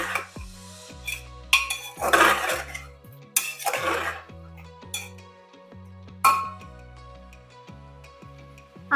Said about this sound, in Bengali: এবার এর মধ্যে আমের টুকরোগুলো দিয়ে দেব। আবারও ভালো করে বেশ কিছুক্ষণ কষিয়ে নেব।